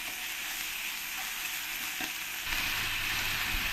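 Onion, onion paste and ginger-garlic paste fry together in a pan with a steady hiss that grows slightly louder partway through, close by and without voices.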